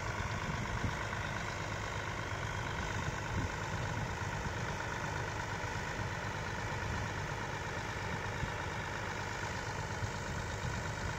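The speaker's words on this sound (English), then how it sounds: "I'm going to get an action shot of you climbing in the tractor and driving off." A tractor engine runs steadily as it pulls away towing a field cultivator, a continuous mid-to-low engine drone with a constant level, moderately close and unbroken for about eleven seconds, with no voices.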